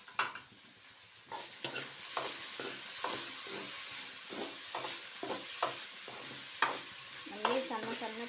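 Thinly cut vegetables with a pinch of salt fry for street-style veg fried rice, a steady sizzle broken by repeated, regular scraping stirs of a spatula in the pan, with a brief voice near the end.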